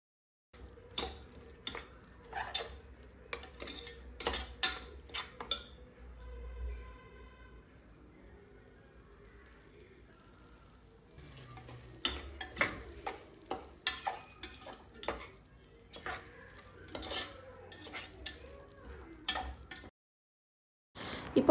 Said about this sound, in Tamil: மசாலா போட்டதும் நம்ம வந்து வதக்கி விட்டுறணும்.